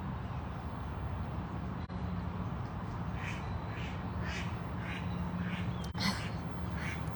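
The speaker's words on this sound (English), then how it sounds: "There's lots of ducks today. Lots of whistling ducks." Whistling ducks call at a wildlife sanctuary, a series of faint, high whistled notes repeating in the distance over a steady outdoor background hum.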